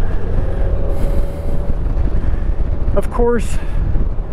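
Steady road and wind roar from a 2021 Honda Goldwing motorcycle cruising in econ mode, a smooth continuous drone with a brief bright tonal chirp near the end and someone talking over it.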